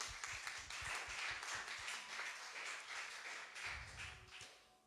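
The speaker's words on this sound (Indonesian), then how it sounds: "Beri tepuk tangan bagi Tuhan." Church congregation applause during a sermon, steady crowd clapping at moderate distance with some low thumps, fading toward the end.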